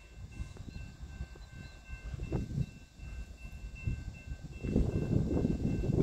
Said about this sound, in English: We got a southbound freight CSX on the old CNO just north of Fostoria.